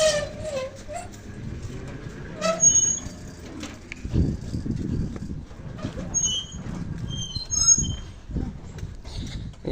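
A train at a railway near Temuniya village, a low rumbling roll with clanking and brief hissing bursts, moderately loud and steady, with faint voices in the background.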